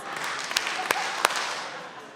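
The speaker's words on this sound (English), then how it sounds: "clap 4 times." A church congregation at a Sunday service claps in unison, a few sharp, evenly spaced claps standing out over a soft, roomy background murmur.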